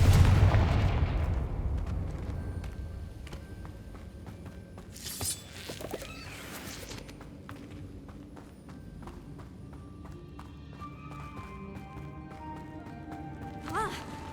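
Confringo fire spell blasts in the video game Hogwarts Legacy: a dense, rumbling barrage of explosive impacts at the start, then scattered bursts and crackles over steady background game sound.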